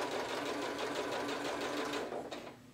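A sewing machine stitches down the edge of a fabric headband in a fast steady run of needle strokes, close and alone, slowing and stopping near the end.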